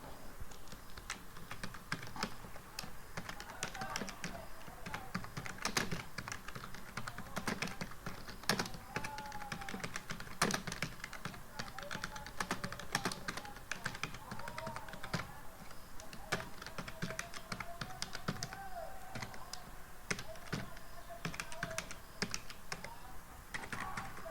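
Someone types on a computer keyboard while filling in a registration form, making a steady stream of quick, light key clicks with brief pauses, heard fairly close at a moderate level.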